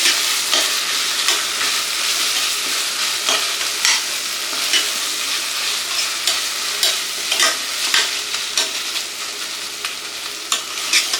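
Tomatoes sauté in a hot pan for a prawn biryani, a steady close sizzle broken by regular scraping strokes of a spatula stirring throughout.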